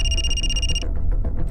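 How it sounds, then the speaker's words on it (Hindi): A telephone bell rings steadily for under a second in an indoor police-station setting, a bright electronic trill that then cuts off, leaving low room noise. "सर, किसी अप्पा का फोन है।"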